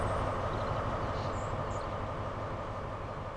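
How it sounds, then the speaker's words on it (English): A Class 43 train in Train Sim World 4 accelerates slowly, its engine and running noise a steady, loud, continuous rumble throughout. "This train takes a long time to get to top speed."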